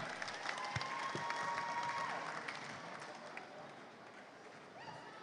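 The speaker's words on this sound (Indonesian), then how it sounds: "Boleh minta tepuk tangan yang sangat meriah" Applause for competition winners at the closing ceremony of OJK Digiffest 2023, a dense, steady clatter of many hands clapping from a crowd, moderately distant, slowly thinning toward the end.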